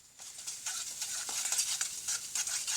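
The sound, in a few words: stirring food in a pan with salt and black pepper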